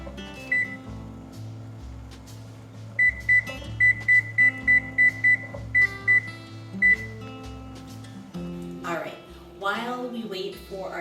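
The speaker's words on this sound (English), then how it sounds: "I'm going to set the timer for 10 minutes." A kitchen timer emits a series of short, sharp electronic beeps in quick succession as buttons are pressed to set it while cooking a turkey stew, with a low appliance hum beneath and a person talking afterward.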